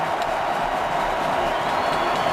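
A steady roar from a large stadium crowd at a 2012 NFL playoff game between the Seahawks and Redskins, a dense, continuous wash of noise with no clear breaks.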